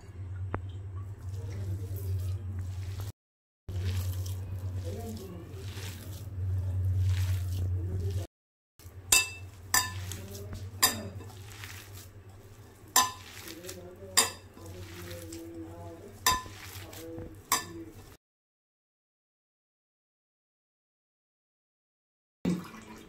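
Soaked sago mixed by hand in a bowl, with soft wet squishes and a series of sharp clinks against the bowl spaced a second or two apart over a low steady hum, then silence.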